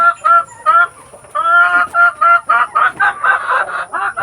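Free-range farm chickens clucking close by, a series of short repeated clucks and calls in quick irregular bursts, loud and alone without talk.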